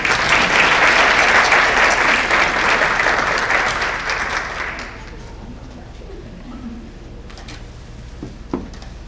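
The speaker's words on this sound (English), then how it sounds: "Give her a round of applause." An elementary school award ceremony audience claps loudly and steadily for several seconds, then the applause fades into quiet room noise with a few scattered claps and small knocks.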